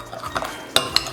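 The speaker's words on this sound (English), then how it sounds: "We're gonna get this all stirred up to make our sauce." A spoon stirs steak slider sauce in a bowl, giving faint scraping and a couple of soft clinks against the side over a short quiet stretch.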